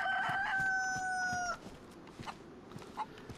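A chicken in the video game DayZ lets out a crowing call for about a second and a half, followed by a few quieter clucks and soft footsteps nearby.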